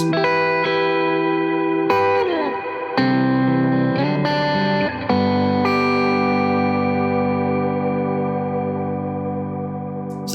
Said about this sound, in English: So that's how I tend to dial in my ambient reverbs.